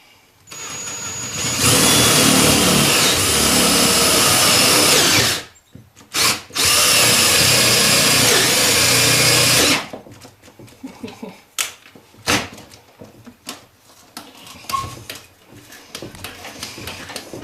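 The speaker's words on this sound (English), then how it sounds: "then I have a drill." A cordless drill with a weakening battery whirs loudly in two long bursts with a brief pause between them, drilling wire holes in an N scale model railway layout, followed by scattered clicks and clunks.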